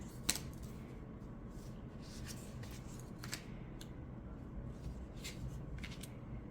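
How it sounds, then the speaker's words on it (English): Pages of a Compendium of Witches tarot deck riffled and flipped, a run of soft papery flicks and light taps over a steady low background hum, close and quiet. "that has been the flip through of the Compendium of Witches by Natasha Ilinchik"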